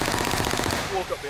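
Rapid machine gun fire in Call of Duty gameplay, a continuous stream of loud close shots, with brief tonal game sounds near the end.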